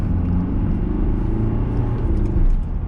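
A 2009 Mercedes-Benz W204 C200, fresh front brake discs and pads fitted, pulls away and drives on; a steady low engine and road rumble holds throughout with a slight swell near the end, no voices.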